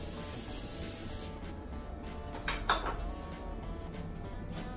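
Quiet aerosol spray bursts in a setting where shoulder pain is being treated: soft hissing puffs repeat over a constant low background noise, with one slightly stronger hiss near the middle and no speech.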